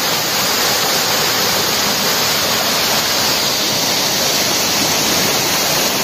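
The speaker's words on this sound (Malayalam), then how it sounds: "അമൃത വാട്ടർഫോൾസ് ആണ് ഈ റിസോർട്ട് തന്നെ ഉള്ളതാണ്." Amrita waterfall at a resort in Kannur, Kerala, gives a steady, loud, rushing roar of falling water that runs unbroken throughout, with no voices.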